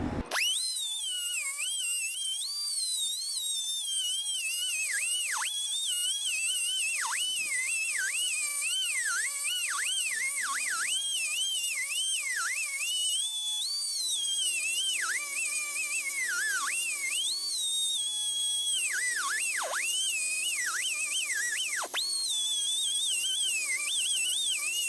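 A power tool grinds and cuts into a bearing race on a Ford row-crop tractor, a steady high-pitched whine running nonstop and wavering in pitch as the load changes.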